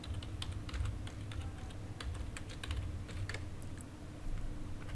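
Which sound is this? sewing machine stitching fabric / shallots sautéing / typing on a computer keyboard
typing on a computer keyboard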